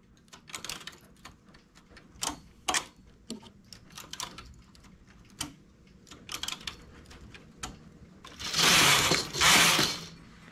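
A domestic knitting machine working a lace stitch adapted from hand knitting, giving scattered light clicks and ticks from its mechanism, then two louder sliding whooshes of the carriage near the end, close and quiet.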